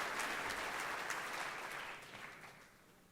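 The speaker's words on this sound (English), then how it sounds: "Again a clap for both the guests of today's function and the achievers of sports." Audience at a school sports meet inaugural ceremony clapping for guests and sports achievers, a fairly faint, even wash of applause that thins and fades toward the end.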